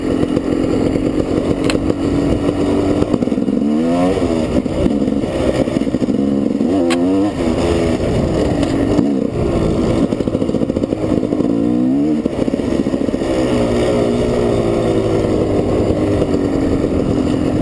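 A GasGas motorcycle engine revs and blats loudly while riding, rising and falling repeatedly in pitch as the throttle is worked, close and continuous.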